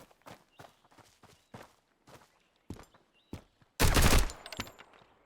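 Assault rifle gunfire in the video game Road to Vostok: a string of sharp, spaced thuds, then a loud, dense burst of rapid shots lasting about half a second that tails off into a few fainter cracks.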